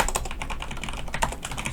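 Steady, fast typing on a computer keyboard while filling in an Excel spreadsheet table, close and continuous with dense overlapping key clicks and no talking.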